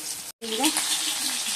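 Chicken sizzles as it fries in a pan. The hiss is steady and close, broken by a brief silent gap, and a voice comes through faintly.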